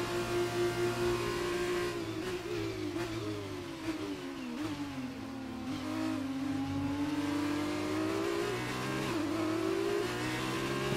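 A race car in the F2 2018 racing game accelerates out of a corner, its engine note climbing steadily with brief dips at gear shifts, loud and continuous with no talking.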